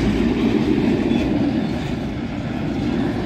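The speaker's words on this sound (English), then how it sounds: "Construction or repair train going past." A railway construction or repair train rumbles past close by, a loud, continuous roar of wheels and wagons on the track with no one talking.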